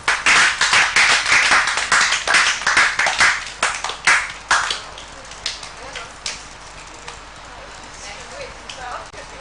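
Live audience applause during a cooking show event, dense rapid clapping loud at first, then thinning out and fading to scattered claps with background murmur.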